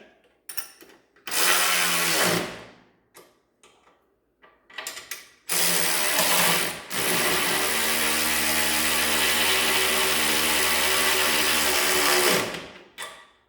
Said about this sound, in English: Now I'm going to use a battery ratchet to tighten this.